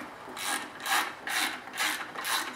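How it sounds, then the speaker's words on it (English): Bolts being tightened on a Mercury outboard lower unit during a water pump impeller replacement, heard as four or five rhythmic ratcheting bursts from a hand wrench, close and fairly quiet, with no talking. "I'll tighten up this one and go back and forth until the whole lower unit is installed properly and evenly"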